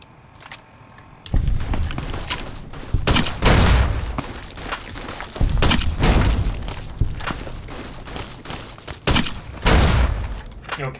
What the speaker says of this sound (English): This actually would not be a bad time to pull out my grenade launcher.